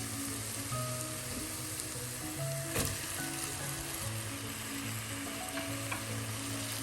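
Tomatoes are stirred into a chicken masala in a hot pan, making a continuous soft sizzle with crackling pops and occasional spatula scrapes, fairly close and alone.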